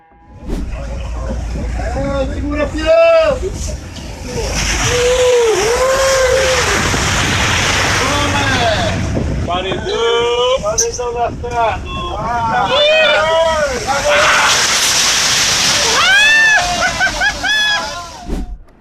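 A powerful boat moves across water with a steady, loud roar, slosh and splash, and wind buffets the microphone throughout; excited voices shout and talk over the noise for most of the clip.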